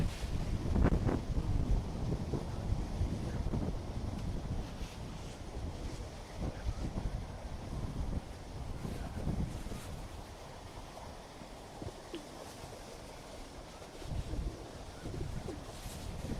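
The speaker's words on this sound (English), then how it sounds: "Windy, it's raining." Gusty wind buffets the microphone in uneven rumbling bursts, with a soft wash of outdoor noise behind it; no clear rain patter stands out.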